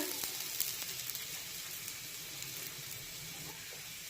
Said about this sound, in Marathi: आता पुन्हा यावर थोडंसं तेल सोडूया.